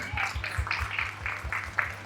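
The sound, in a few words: audience clapping for teachers and staff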